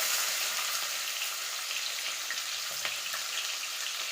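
Mustard seeds and curry leaves fry in hot oil, giving a steady, close sizzle with faint crackles and pops that continues evenly throughout, with no talking.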